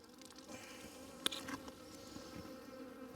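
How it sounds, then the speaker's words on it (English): Honey bees hum in a hive during a late-winter inspection, a soft continuous buzz heard close but faint, with one brief tap partway through and no talk. "The bees are just now getting into the sugar here"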